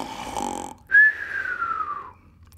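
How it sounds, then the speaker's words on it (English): A snore from a big sleeping dog as a children's audiobook sound effect: a low rumbling inhale followed by a drawn-out whistling exhale that slowly falls in pitch, close and fairly loud, with no talk. "He was spread out across the floor, blocking everybody's path, snoring loudly."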